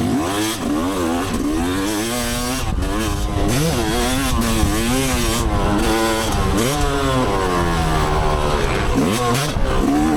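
Dirt bike engine, one of a 450, 350 or 250 two-stroke, revs hard while riding, loud and close, with pitch rising and falling through repeated throttle blips and gear changes, a constant harsh roar throughout.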